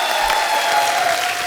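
Studio audience on The Kapil Sharma Show bursts into loud, dense applause welcoming a singer, a continuous wash of clapping filling the whole moment with no voices on top.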